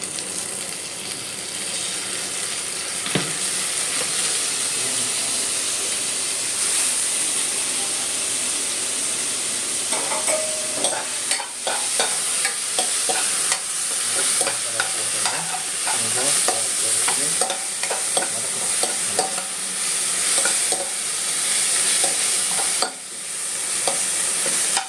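Ginger garlic masala frying with softened onions in a pan, a continuous close hiss of sizzling broken by frequent clinks and scrapes of stirring, with no talking.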